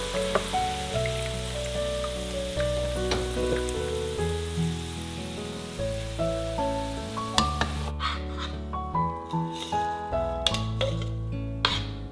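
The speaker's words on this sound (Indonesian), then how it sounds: "Menggoreng bawang ini teman-teman cukup dia nguning, itu udah cukup teman-teman biar wanginya itu keluar." Steady sizzling of onions frying in hot oil until golden, with occasional stirring clinks and scrapes of a utensil against the pan, accompanied by background music.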